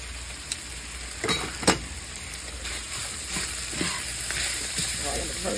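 Thick-cut bacon and hamburger sizzle steadily in a pan, with a few louder crackles and stirring scrapes near the start.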